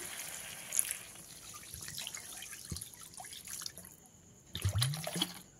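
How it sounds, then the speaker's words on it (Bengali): Water is poured into a frying spice masala while cooking okra, a soft trickle and splash near and fairly quiet, with a brief louder pour toward the end. "এবারে এর মধ্যে দিয়ে দিতে হবে পরিমাণ মতন জল"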